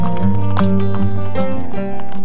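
Horses near the Saqsaywaman archaeological site in Cusco clop along, close by and loud, their hooves striking in an uneven rhythm while tonal voices or calls ring over the top.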